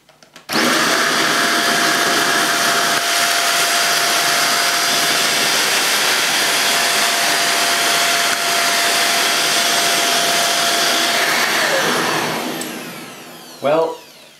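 A Hoover Jovis 550-watt corded handheld vacuum cleaner sucks up dirt, switching on with a loud, steady high-pitched whine and airflow roar that runs for about eleven seconds before spinning down, then a brief bump of handling.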